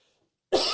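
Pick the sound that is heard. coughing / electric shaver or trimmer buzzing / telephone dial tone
coughing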